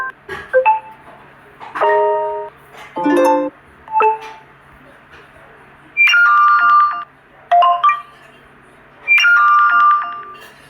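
A bright electronic ringtone plays several short melodic phrases of chiming tones, loud and close, separated by brief pauses.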